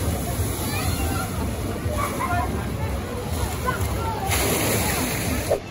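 An empty log flume boat splashing down the water drop on the Rugrats Lost River ride at Nickelodeon Land, Blackpool Pleasure Beach, heard as a moderate slosh and rush of water under steady outdoor crowd noise and nearby talk.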